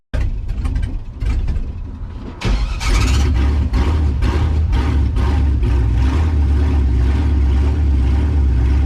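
A 5.3 LS V8 swapped into a Ford Ranger with a new cam, running on all eight cylinders, roars loud and close as the throttle goes wide open, rising into a sustained heavy rumble after a brief lower idle.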